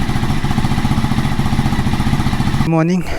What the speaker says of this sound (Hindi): मैंने बाइक को ऑलरेडी कॉल स्टार्ट कर दिया है।